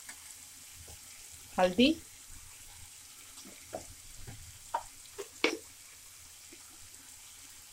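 Poha with green chili and turmeric being gently stirred in a pan, giving a few short scraping clusters over a faint frying hiss, with brief speech in between.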